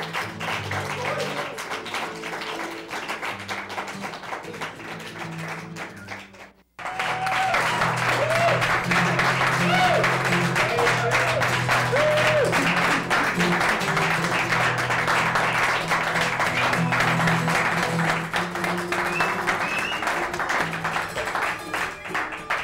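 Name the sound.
studio audience applause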